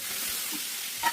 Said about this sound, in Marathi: त्यावर पाणी शिंपडून घ्या.